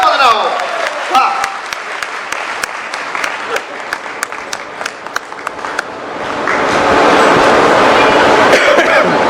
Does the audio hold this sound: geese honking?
no